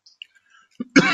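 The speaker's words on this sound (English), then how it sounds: "I'm sorry for this little cough" A person gives a short throat-clearing cough close up, one quick rough burst after a few faint small noises.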